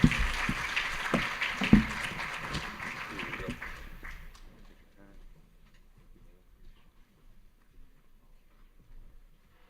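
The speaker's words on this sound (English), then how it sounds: "Round of applause." Audience at a real estate association panel event giving a round of applause, loud clapping for about four seconds that thins out and dies away into near silence.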